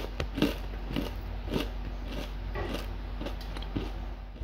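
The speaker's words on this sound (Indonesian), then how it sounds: "Selanjutnya kita tes uji kerenyahan." Biting crunchy homemade rempeyek, a fried peanut cracker, gives a run of about eight close, crisp crunches at a steady chewing rhythm, with no talking.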